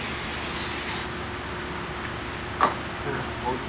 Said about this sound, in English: What I'm gonna do is spray it down with a little brake parts cleaner